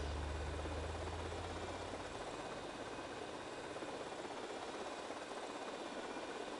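Helicopter in GTA Vice City flying overhead, a steady broadband rotor and engine roar that stays loud and continuous throughout, with a low thumping drone at the start easing off after a couple of seconds.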